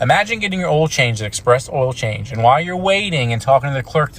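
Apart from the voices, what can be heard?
None of the usual background noises is heard.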